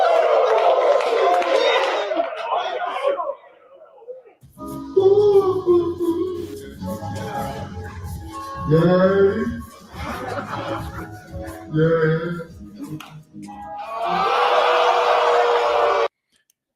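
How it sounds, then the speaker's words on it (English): A crowd at an Alabama fall camp event roars with booing at a player, loud sustained jeers at the start and again near the end, with someone talking in between. "he got booed immediately"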